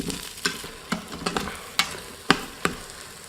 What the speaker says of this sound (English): we're just going to let this keep on sauteing until the onions become softened